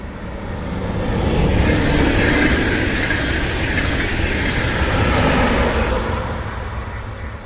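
A train passes in Germany, a loud broad rushing roar with rail clatter that swells up, holds steady for several seconds, then starts to fade, with no voices.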